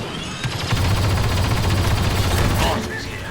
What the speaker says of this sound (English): Covering fire, go!